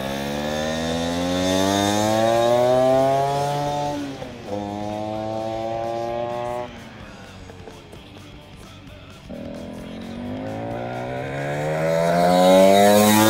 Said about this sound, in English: This bike, with its all original paint, now with a quick engine, is nothing but exciting.